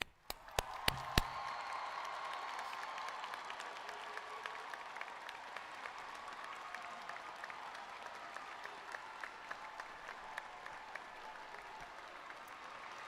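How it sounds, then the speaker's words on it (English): An audience at the Middle Creek High School 2026 commencement applauds the graduates. A few sharp claps open into dense, sustained clapping from a large crowd that holds steady throughout, with no speech over it. "please join us in a ruckus round of applause for our graduates"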